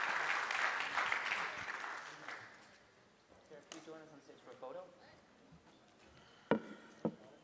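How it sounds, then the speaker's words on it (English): Audience applause follows a climate conference keynote and panel, a moderate burst of clapping that fades out over a few seconds, then quieter room noise with a couple of sharp knocks. "Please join me in giving a very warm round of applause to thank our keynote speaker and this wonderful panel."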